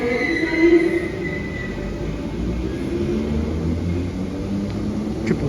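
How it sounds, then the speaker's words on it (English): Merseyrail Class 777 electric train pulling into a station platform, a continuous rolling rumble with a faint electric whine and a few light squeals, moderately loud and steady. "Train now arriving on platform 1 is your Kirby"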